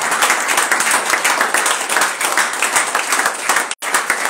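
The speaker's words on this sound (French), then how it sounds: "Tu peux acclamer le Dieu puissant" A church congregation applauds, many hands clapping loudly and close in a dense, rapid patter that carries on without a break, cut off by one very short gap near the end.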